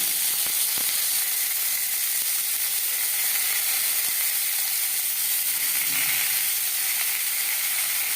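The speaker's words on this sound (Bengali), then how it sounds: "3-4 মিনিট আম হালকা করে ভেজে নেব" Raw green mango pieces lightly frying in a pan for a sweet mango chutney, giving a steady, even hiss of oil throughout with a few faint clicks and no voices.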